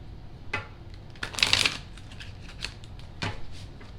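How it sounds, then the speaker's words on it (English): Playing cards are riffled close by in a quick burst of rapid fluttering snaps, followed by a few light taps and shuffles. "One more shuffle."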